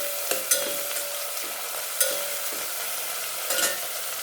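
Onions and tomatoes sauté in a pan for Kongu-style rice and dal, giving a continuous bright sizzle. A spoon stirs against the pan with sharp clicks and scrapes at irregular intervals, and no one speaks.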